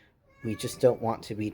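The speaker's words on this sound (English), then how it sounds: "So if you hear one of them meowing, that's what that is." A cat meows indoors, one brief near meow overlapping a person who is speaking.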